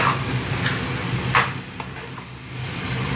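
Onions sizzle in a pan as a mixture for wraps is prepared, with a continuous frying hiss and a few stirring swishes near the start that fade to a calmer sizzle.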